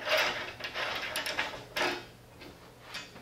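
A black bolt is screwed down through a T-slot onto a touch screen podium frame, giving a few close metallic clicks, scrapes and ticks in an uneven rhythm, with no talking.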